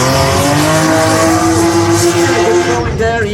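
A Toyota GR Supra drift car at a Drift Masters competition in Riga holds a loud, sustained engine howl with tire squeal right up close. A commentator talks over it.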